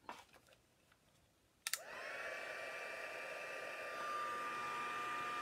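An embossing heat tool blowing onto a card, switched on with a click and then running as a steady loud whooshing hum that continues to the end.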